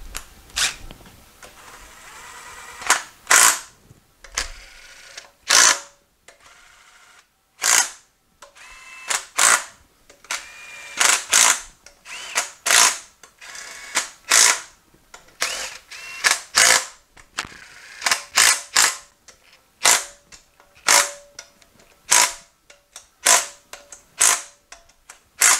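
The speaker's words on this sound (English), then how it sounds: "So this other bolt goes down there. All right, let's get our 13 millimeter socket." A 13 mm socket on a ratchet wrench drives bolts during the teardown and assembly of an 8L90 transmission, giving bursts of sharp clicking ratchet strokes in quick repeated runs with short pauses, close and clear, with no talking.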